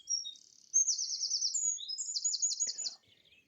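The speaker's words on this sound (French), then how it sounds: "Je voulais déjà vous faire connaître l'activité de ces oiseaux que nous connaissons dans nos jardins." Garden birds chirp and sing in quick, bright, high-pitched trilled phrases that run almost continuously, clear and fairly close, with no voices.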